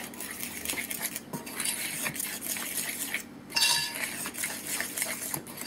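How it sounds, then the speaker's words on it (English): Yorkshire pudding batter whisked in a bowl, a rapid run of light clinking, tapping strokes of metal against the bowl, close and fairly busy, with a short pause midway. "I'm going to give that a bit of a whisk up"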